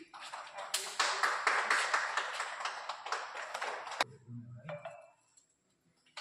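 Applause at a school ribbon cutting for a new smart class at Ganesh High School in Kalebung, a burst of many hands clapping for about four seconds, then fading into quieter sounds and a brief voice.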